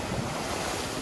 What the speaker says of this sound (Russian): Так, идет огромная волна.